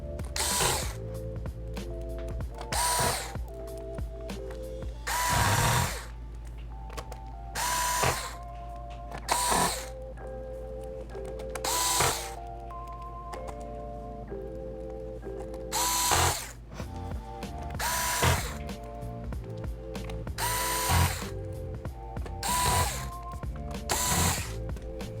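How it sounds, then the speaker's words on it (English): Screws being driven back into the bottom cover of an Acer Chromebook C722 after a motherboard replacement, with repeated ratcheting bursts from a powered screwdriver at close range and short pauses between them, over a steady low hum. "You can put the screws back in."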